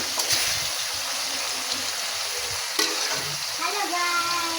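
Hot oil sizzles steadily as fish fries in a pan, with scraping stir strokes and a few clinks of the spoon against the pan, all close and without voices.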